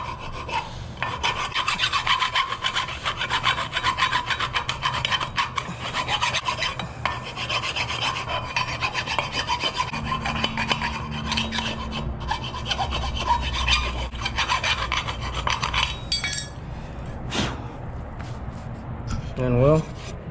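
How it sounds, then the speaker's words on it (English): Steady, close rasping strokes of a hand file on metal as a notch is cut to fit a 3G alternator on a Foxbody Mustang, continuing for most of the time, with someone speaking over it. "Take your file, kind of file down"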